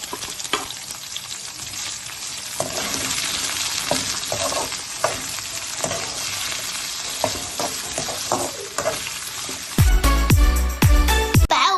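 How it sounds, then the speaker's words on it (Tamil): Large onions sizzling in hot oil in a pan for fish curry, a continuous frying hiss broken by repeated scraping knocks of a stirring spoon, ending with a few louder, heavier thumps against the pan. "இப்போ நம்ம பெரிய வெங்காயத்தை சேர்த்துக்கிறோங்க"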